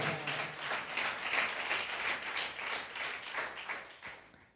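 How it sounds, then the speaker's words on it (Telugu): A church congregation claps during a sermon, producing a continuous, fairly uniform wash of many hands clapping together that sounds moderately distant and carries on without a break. "చప్పట్లు కొట్టు గట్టిగా"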